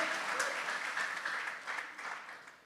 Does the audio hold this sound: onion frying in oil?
no